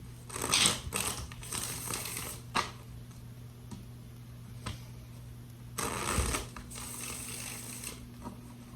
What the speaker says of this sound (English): Let's do 3 shuffles for the outcome.